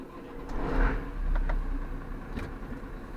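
A Massey Ferguson 6260 tractor engine cranking and catching, a close rumbling turnover that swells and settles into a running idle over a few seconds.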